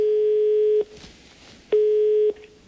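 A steady ringback tone sounds on a telephone line while a number is dialed during a Hungarian quiz broadcast. There are two long even beeps with a pause between, clear and alone, with no talk.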